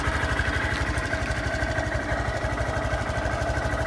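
A stock 2018 Honda Grom motorcycle idles up close, its small single-cylinder engine putting out a steady, rapid, even putter with a constant mechanical hum and no voices.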